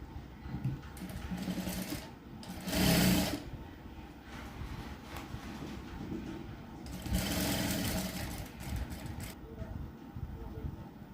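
Sewing machine stitching a folded hem on a blouse sleeve piece, a faint rapid mechanical whirr running throughout with two louder surges, a voice talking quietly alongside.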